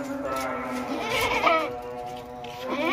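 A milk-heavy goat at a livestock market bleats close by in wavering, drawn-out calls, with other bleats and background chatter.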